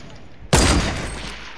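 A single sharp semi-automatic rifle shot in a video game, loud and close, its broadband blast ringing out into a fading tail with no talk over it.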